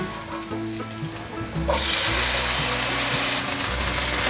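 Tomatoes and celery are stir-fried in oil in a wok, a quiet sizzle that swells into a loud, sustained crackle when the tomatoes go in, with faint stirring and no voices.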